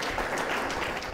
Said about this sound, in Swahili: Tumpigie kilo za makofi yake jamani.